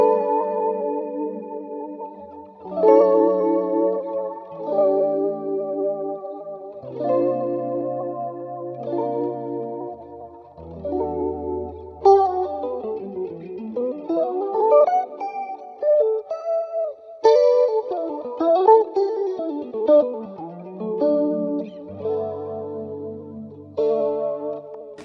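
Neo soul guitar chords and melodic lines run through an HX Stomp tape eater effect set with heavy feedback and flutter, producing warbling, pitch-wobbling tape-style modulation and echoing repeats, played alone without speech.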